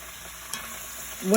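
A pan of chicken curry sizzles softly while a spoon stirs it, a short, close and fairly quiet frying hiss with a scrape near the end.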